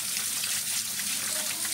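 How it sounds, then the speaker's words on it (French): Tap water runs steadily while vegetables are rinsed under the faucet in a home kitchen, a continuous hissing splash close by with no talking. "Maintenant, je vais rincer tout dans l'eau"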